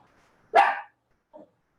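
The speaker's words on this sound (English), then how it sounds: "Sorry guys, that's my dog." A pet dog barks once loudly nearby in a quiet room, then gives a shorter, softer second bark about a second later.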